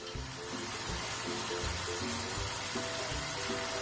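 Ground tomato dropped into onions frying in hot oil for egg biryani, a steady sizzle with soft stirring clatter and faint scraping knocks underneath.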